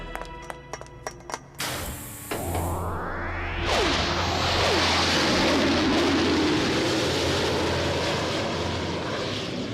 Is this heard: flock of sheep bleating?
no